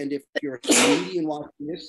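A person sneezes once, a short forceful burst in the middle of nearby conversation, with voices talking just before and after.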